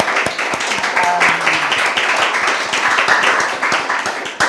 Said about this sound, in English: I feel this also needs a round of applause